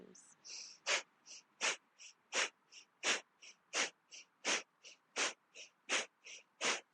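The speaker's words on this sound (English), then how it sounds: "exhaling, actively through the nose, pumping the belly 7 times" A person in a yoga session forcefully exhales through the nose while pumping the belly, producing a steady series of sharp nasal puffs about one per second, with softer breaths between them. The puffs are close and distinct, with no talk over them.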